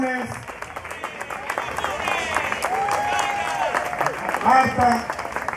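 Crowd applause at a farewell party, steady broadband clapping with voices and cheers mixed in throughout, swelling slightly toward the end.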